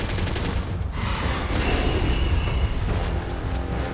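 Sustained gunfire in a firefight from the video game Starfield, a loud dense barrage of overlapping shots and bursts with booming low rumble, continuous for the full few seconds with no talk.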